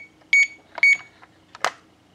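A vintage KMC 500 alarm clock beeps quietly, with two short electronic double beeps followed by a brief click, close and alone.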